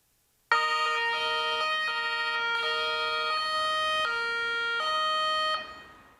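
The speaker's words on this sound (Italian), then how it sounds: "Il silenzio è il suono delle sirene." A loud electronic siren wails in stepped two-tone pulses, holding steady for several seconds before cutting off abruptly.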